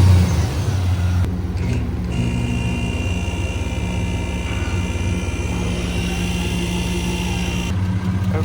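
A Chevrolet Blazer's 4.3 V6 engine idles just after an oil change, giving a steady, smooth, fairly loud drone with an even low rumble throughout and no voices.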